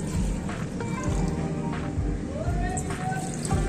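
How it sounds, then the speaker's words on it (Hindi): Water spilling at a roadside golgappa stall in a village, a close wet splash and slosh that runs for a few seconds beneath busy chatter and voices. "गिर गया पानी।"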